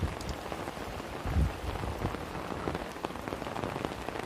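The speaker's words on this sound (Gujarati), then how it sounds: "હજી તો વરસાદ જો આમ તમે એક ધારો ચાલુ જ છે" Heavy, unbroken rain pours down hard on surfaces in a flooded farming village in Dwarka district, a dense constant roar with a brief low rumble early on.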